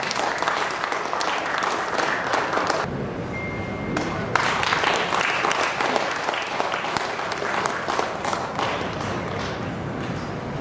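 Audience applause at a valedictory function: dense, sustained clapping from a sizeable crowd, loud and close, with a brief thinning midway before it swells again and carries on steadily.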